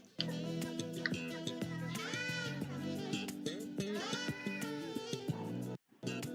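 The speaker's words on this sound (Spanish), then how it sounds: "conocido como el gato Alugaluk, por el extraño sonido que hace." A cat meows repeatedly in long, drawn-out wails set over a steady musical backing, with a brief silent gap near the end.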